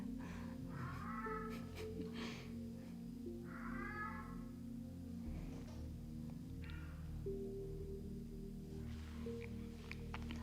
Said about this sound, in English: I think our cat is a little bit hungry.